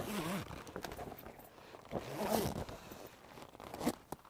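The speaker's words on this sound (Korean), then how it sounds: "자, 체결 방식은 이렇게 하단에 지퍼가 있습니다." The bottom door zipper of an inflatable air tent is pulled closed in several short ripping strokes with pauses and fabric rustling between them, close and clear.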